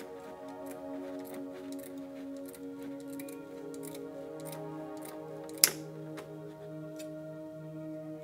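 Scissors snipping knitting mesh into squares, soft scattered clicks over a steady background hum with one sharper snip partway through, close but quiet.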